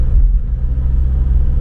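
A car drives up Aotea road in Porirua, giving a loud, steady low engine and road rumble throughout with no voices.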